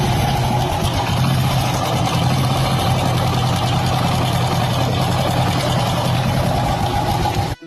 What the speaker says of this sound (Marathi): याची टायमिंग चेनचा प्रॉब्लेम झालेला आहे. टायमिंग चेन गाडीची लूज झालेली आहे.